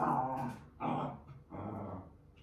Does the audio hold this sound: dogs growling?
yes